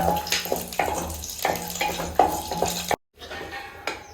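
Semiya vermicelli is stirred and roasted in a pan, with rhythmic scraping and clanking of a utensil against the pan over a faint sizzle, close, then a sudden cut to near silence.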